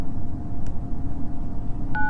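A phone number is tapped out on a keypad, producing a couple of short, clear electronic dial tones against faint background hum, with no talking.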